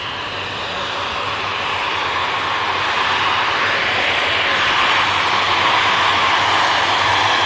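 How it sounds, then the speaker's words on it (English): A Ryanair jet about to touch down at Manchester Airport gives a loud, steady engine roar that builds slightly and holds throughout, with no talk over it. "Another Ryanair about to touch down."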